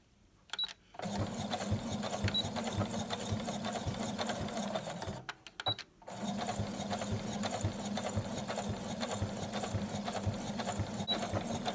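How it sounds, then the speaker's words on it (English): A sewing machine runs a straight edge stitch to close a fabric opening, its needle whirring at a steady, fast rhythm that stops briefly twice before resuming, close and clear with no talking. "use an edge stitch. So a regular straight stitch going all the way down to sew this opening closed"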